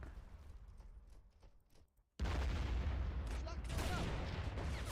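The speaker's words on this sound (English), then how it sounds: "let's get another bit of artillery fire right over there" Artillery fire in the WW1 video game All Quiet on the Western Front on the Italian front: quieter battlefield rumble suddenly gives way to a loud, sustained roar of explosions and shooting that fills the rest of the moment.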